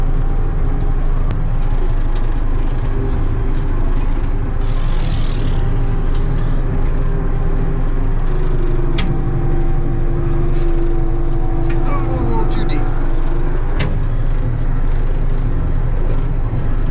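A Heil scraper's diesel engine works steadily while digging a pond, a loud continuous low rumble with a few faint tonal whines and brief clanks over about seventeen seconds.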